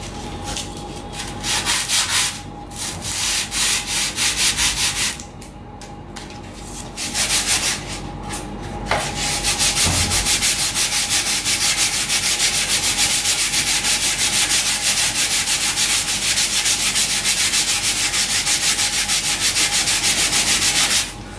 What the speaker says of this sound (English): now we will sand using the sandpaper